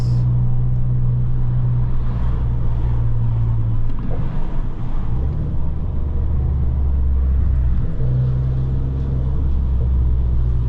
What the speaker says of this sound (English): don't know if you guys can hear that turbo. Gear 2.